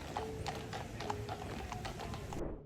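A Royal Guard horse's hooves clip-clopping on hard ground in a busy outdoor setting, a steady series of sharp, evenly spaced clops at moderate distance over a constant crowd and street murmur.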